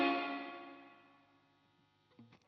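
Electric guitar through a UAFX reverb pedal on its warmer, rounder setting: a single strummed chord blooming loudly and decaying smoothly over two seconds, followed by a brief quieter strum near the end.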